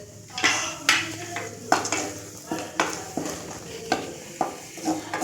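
Cashew nuts fry in ghee in a kadai as a spoon stirs them, with repeated metallic scrapes and clinks of utensil on pan over a low sizzle, close and clear.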